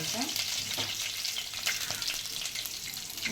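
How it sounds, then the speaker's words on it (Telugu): Curry leaves crackle and sizzle in hot oil for lemon rice, a steady close frying hiss with scattered sharp pops and spatters. "కరివేపాకు వేసుకోవాలి. కరివేపాకు కొంచెం చిట్టపట్టలాడాక"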